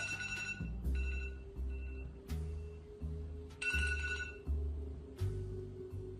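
Phone ringing in a video game, a bright electronic ringtone repeating in regular bursts about every three quarters of a second, fairly quiet with a low hum underneath.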